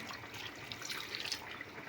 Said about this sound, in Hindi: इसमें मैं करूँगी पानी ऐड।